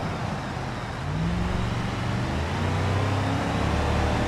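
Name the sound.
truck driving in the video game BeamNG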